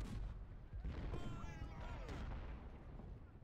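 Enemy artillery fire in the Civil War strategy game Ultimate General: Civil War, low booms and rumbling blasts rolling continuously under a dense battlefield din.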